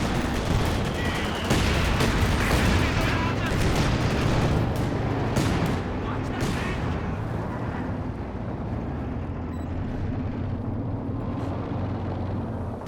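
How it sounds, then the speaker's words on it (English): Sector artillery barrage raining down in Company of Heroes 2, a dense, continuous roar of booming shell impacts and gunfire rumbling steadily throughout, loud and layered with no clear gaps. "Okay, well we've got sector artillery coming down."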